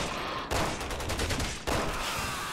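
Gunfire in Resident Evil 6: two sustained bursts of dense rapid shots, loud and close, separated by a short gap.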